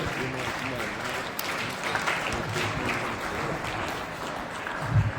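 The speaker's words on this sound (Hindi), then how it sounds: "जोरदार तालियां आयुष के लिए" A school audience gives loud, sustained applause for an eighth-grade student honoured for his rank in an exam, the clapping dense and continuous throughout with some voices mixed in.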